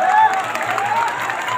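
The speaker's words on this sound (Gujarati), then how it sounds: "આપણે સૌ તાળીઓથી બજાવીએ." A crowd claps at a community felicitation ceremony in Patan: a steady, fairly loud wash of applause that runs unbroken for under two seconds.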